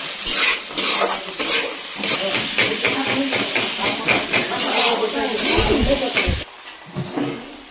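Chickpeas and potatoes sizzle and hiss in a frying pan as a utensil stirs and scrapes through them in quick repeated strokes, loud and close, with the stirring stopping near the end.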